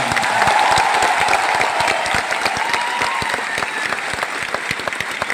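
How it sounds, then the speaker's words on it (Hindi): A crowd at a Vestige anniversary event breaks into loud, dense applause, with individual claps standing out sharply, strong at first and tapering a little as it continues. "इससे ज्यादा और तालियां।"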